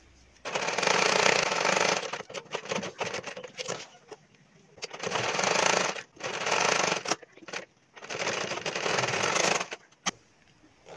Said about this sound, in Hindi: एटा सीधा साइडटा उठे या ऊपर सिलाई लगाई देबी।